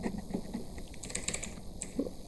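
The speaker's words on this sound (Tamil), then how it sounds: "இப்போ வெங்கடேஷ் அப்படின்னு இருக்குது அப்படின்னா ஐடி ப்ரூஃபில் அதே மாதிரி வெங்கடேஷ் அப்படின்னு மட்டும் அடிங்க" A computer keyboard clatters with quick, close keystrokes in uneven bursts as a name is typed into an online IRCTC train ticket booking form.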